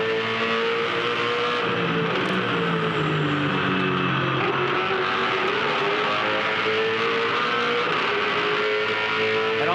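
A V8 Supercar race car at the 2007 Adelaide 500 street race roars at full throttle, a loud continuous engine drone with rising gear-change pitch sweeps, heard close and unbroken.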